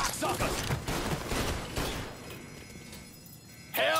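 Heavy gunfire in the Mafia III video game: a dense, sustained barrage of shots and impacts fills most of the stretch, eases briefly, then returns with a sharp burst at the end, with a voice talking over it.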